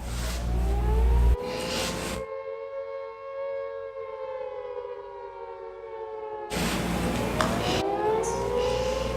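A loud air raid siren wails, its pitch rising and holding in a long sustained tone, broken by abrupt cuts.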